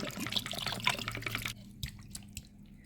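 Water is poured into vinegar over chicken leg pieces for soaking, a splashing trickle for about a second and a half, then a few scattered drips in the quiet.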